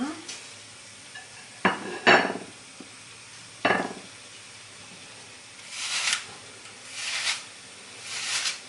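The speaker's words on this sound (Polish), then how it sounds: "przyprażyć, tak aby jabłka po prostu były przeprażone i dosypiemy suchą galaretkę" Apples frying and being stirred in a pan for a Polish layered cake, with a few sharp spoon-against-pan clinks and scrapes early on, then three soft sizzling hisses spaced a second apart.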